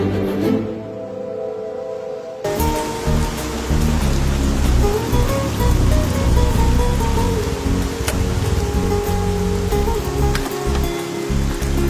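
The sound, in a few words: rain that keeps falling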